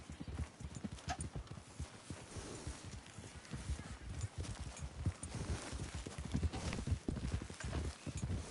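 Horse hooves clip-clopping steadily in Red Dead Redemption 2, a continuous rhythmic gait at close range with a faint whinny in the mix.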